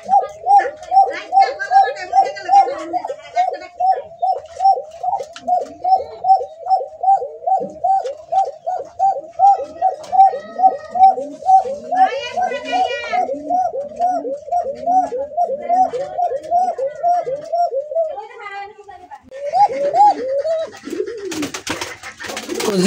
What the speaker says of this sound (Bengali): ডাক তো শুনছেন। ডানে যেটা আছে এটা হলো নর কবুতর,